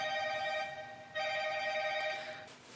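A telephone rings indoors, two bursts of electronic trilling separated by a short gap, moderately faint and alone.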